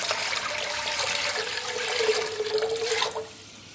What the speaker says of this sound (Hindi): मैं पहले इसमें फिर से पानी ले लेता हूं काफी सारा।